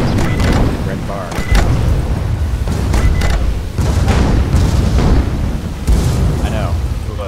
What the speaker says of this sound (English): It's a flash gun.